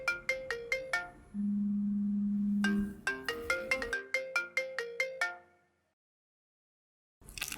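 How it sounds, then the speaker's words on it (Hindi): A phone ringtone plays a bright, plucked melodic pattern with a held tone, repeating, then goes silent before starting again. "बाबा मैं सोहा को फोन करता हूँ।"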